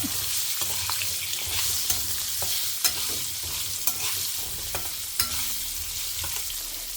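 Asafoetida and small shallots frying in hot oil for a hotel-style kara kuzhambu, giving a steady close sizzle with light scattered stirring clicks and spatters, no voices.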